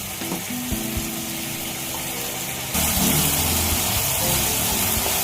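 Spices sautéing in oil for fish head moong dal, a steady close sizzle with stirring scrapes, jumping suddenly louder and brighter partway through as the frying intensifies.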